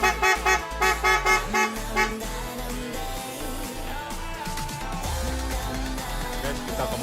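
Mitsuba Aero Spiral 2 car horn under test, a series of short loud honks, then one longer blast and further tones sounding over engine noise.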